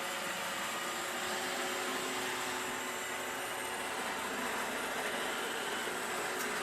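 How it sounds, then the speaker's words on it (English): An iRobot Roomba 780 robot vacuum drives back to its dock with a steady, close whirring hum of motor and suction that holds level throughout, with no voices. "press the dock button, and the Roomba will be able to find where it's supposed to go"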